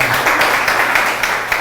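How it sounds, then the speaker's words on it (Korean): A congregation at a church mission seminar breaks into a brief burst of steady applause, many hands clapping together in a close, loud, dense patter. "박수 한번 쳐주세요."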